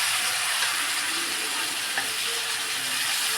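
Spiny gourd (kantola) pieces dropped into hot oil with asafoetida, giving a steady, close sizzling hiss that stays even throughout, with no talking.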